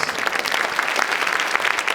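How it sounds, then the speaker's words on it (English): An audience at a live talk show recording claps in a dense, steady burst of applause throughout. "let me give some applause real quick"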